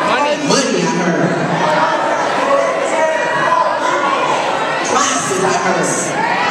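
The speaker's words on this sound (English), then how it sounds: "Yell some stuff." An audience yells out answers at once, a loud overlapping mix of shouted voices, chatter and a few laughs throughout, with bursts of louder cries near the end.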